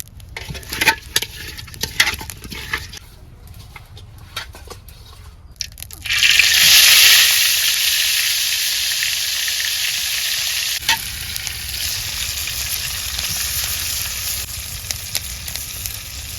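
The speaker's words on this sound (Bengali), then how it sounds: "মাছ ভাজি করুন।" Fish coated in turmeric fries in hot oil in a wok in a village kitchen, a loud steady sizzle that bursts in partway through and keeps crackling and popping evenly to the end.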